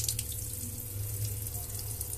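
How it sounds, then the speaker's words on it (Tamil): Water is poured over soaked pearl millet to wash it, a close, steady trickling and splashing stream in a vessel, fairly soft and continuous for its brief span. "தண்ணி ஊற்றி கழுவுனோம்னா மேலே உள்ள தோல்லாம் வந்துடும்."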